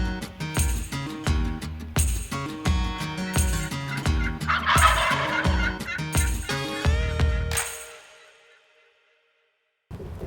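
A wild turkey gobbling repeatedly in a Nebraska river bottom, loud rattling bursts in quick succession that break off into silence.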